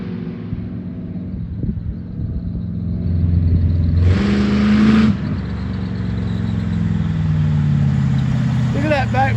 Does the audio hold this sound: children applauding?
no